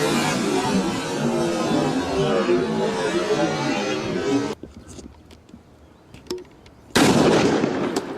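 Cola bottle blasted apart by dry ice, a sustained loud fizzing, crackling roar for several seconds that cuts out abruptly, followed by scattered pops and drips, then another loud burst of spraying noise.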